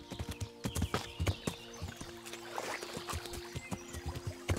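Horse hooves clip-clop steadily at a riding pace through the medieval countryside of Kingdom Come: Deliverance, a close, even rhythm of sharp knocks with a faint watery sloshing underneath and no talk.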